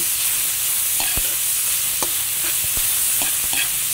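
Ground pork and tofu stirred and sautéed in a hot pan, a steady loud sizzle with repeated sharp scrapes and clacks of a utensil against the pan.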